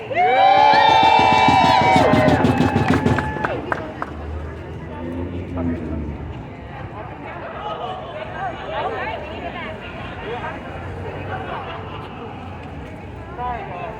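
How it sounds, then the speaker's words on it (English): A crowd cheers and shouts at a school event, loud at first with a sharp burst of whistles and yells, then fading into a steady murmur of voices and chatter that carries on underneath. "Let's get a cheer."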